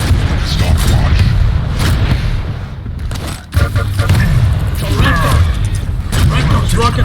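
Rocket blasts and weapon fire in a Warsow-style arena duel video game, repeated booming explosions with mechanical clatter, loud and dense, with a voice commentating over the action.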